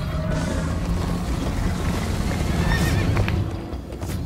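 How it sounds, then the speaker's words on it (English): Horse galloping and neighing in the video game Minecraft: Story Mode, with a steady rapid clip-clop of hooves and a whinny rising over a rushing, loud background. "First time on a horse here!"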